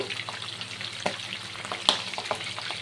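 Pabda fish frying in hot mustard oil in a pan, a close continuous sizzling hiss broken by occasional sharp spits and pops, with no voices.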